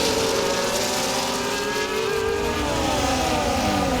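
Formula One car engine at full throttle in EA Sports F1 at the Baku street circuit in Azerbaijan, a loud, sustained high-pitched engine whine with shifting harmonics, continuous and close throughout.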